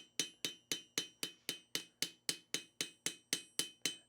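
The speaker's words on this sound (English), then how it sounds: "Here's just a little ball peen hammer. This is like kind of a very traditional hammer texture." A small ball peen hammer strikes a metal sheet being textured for a bracelet, about fourteen crisp, evenly spaced metallic taps in a steady rhythm, close and clear with no talking.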